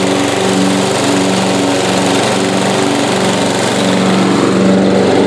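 A Yard King lawn mower's small engine runs steadily and loud at close range, a constant droning hum with a slight knock in its rhythm and no pauses.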